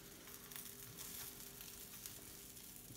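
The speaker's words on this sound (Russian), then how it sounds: "Ну и все, яйца там жарятся." Eggs sizzle and crackle steadily in a hot frying pan, prepared Birmingham style, a continuous close-up hiss with no talking.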